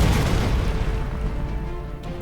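An assault fire weapon attack in the Sunrider: Liberation Day video game produces a loud, sustained booming blast with a deep rumbling tail that holds for a couple of seconds, without any voices.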